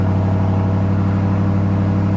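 A 1998 Pontiac Trans Am WS6 with Flowmaster exhaust pulls under light throttle, giving a steady, moderately loud low exhaust drone heard from inside the cabin without talk.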